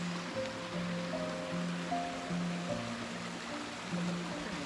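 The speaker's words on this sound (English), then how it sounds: "There's a small stream there, and this stream named Vettiyar originates from Pakuthippalam itself." The small Vettiyar forest stream in Nelliyampathy, Kerala flows with a continuous rushing wash of water, and faint tonal calls sound intermittently over it.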